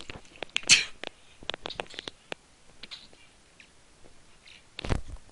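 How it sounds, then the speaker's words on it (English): Several sharp sneezes in a row, close and loud, with short pauses between bursts and quiet background between them. "Yeah, sneezing fit."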